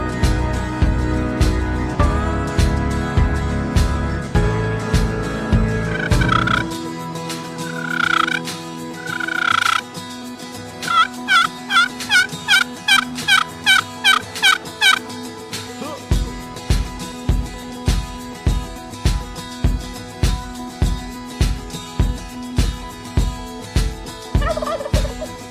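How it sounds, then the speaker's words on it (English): A mature wild turkey in an Ontario field answering during a spring hunt, delivering repeated loud rattling gobbles alongside a steady pulsing rhythm of croaks and calls, close and prominent throughout. "With one final gobble, right at the very edge of the field"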